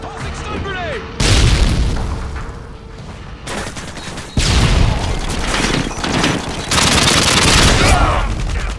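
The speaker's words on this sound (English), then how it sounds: "Tossing stun grenade!" A stun grenade bursts with loud sharp booms in a Call of Duty search and destroy match, amid heavy rattling gunfire and repeated blasts, with voices talking over the chaos.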